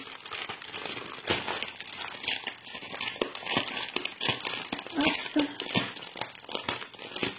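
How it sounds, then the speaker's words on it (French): Plastic packaging crinkles and crackles continuously up close, with sharp rustling bursts as it is handled. "Ah là là, les paquets qui font du bruit."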